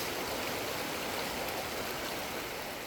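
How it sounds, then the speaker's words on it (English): A waterfall pouring into a lake on a mountain route between Manali, Ladakh and Srinagar, a steady broad rushing roar of water, constant and fairly loud with no voices. "So there's this waterfall which fills the lake and gives it the beauty it has."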